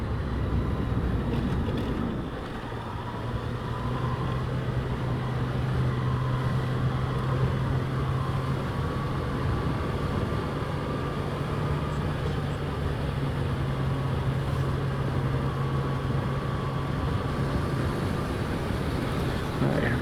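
A steady engine hum and heavy wind rush from a motorcycle climbing San Antonio Valley Road toward Mt. Hamilton in the Bay Area, continuous and buffeting throughout, with a faint low tone riding under the roar.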